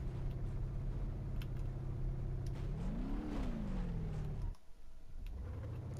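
A monster truck engine in BeamNG.Drive, loud and close, holds a steady drone, then swells into a rising and falling rev before cutting off sharply and settling back to a lower rumble.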